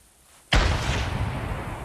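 A single loud gunshot in the hunting game theHunter 2015 cracks out of near-silence, followed by a long, rumbling echo that fades slowly.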